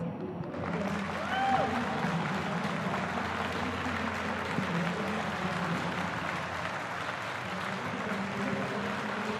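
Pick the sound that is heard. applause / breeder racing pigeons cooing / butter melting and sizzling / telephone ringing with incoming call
applause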